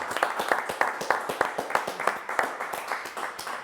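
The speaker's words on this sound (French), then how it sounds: "OK, on l'applaudit quand même." Sparse, rhythmic clapping from a small studio audience applauding a band on a French talk show, individual claps distinct and fairly quiet, steady throughout with a hint of background voices.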